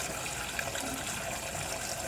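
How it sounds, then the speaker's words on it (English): A refrigerator's built-in water dispenser pours a steady stream of water, likely into a cup, a continuous close rushing splash with no voices. "And now my water's coming out."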